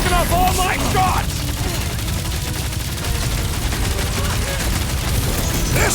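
Rapid gunfire from the Guardians of the Galaxy video game crackles amid loud battle noise, with a dense, continuous barrage of shots that carries right through the clip.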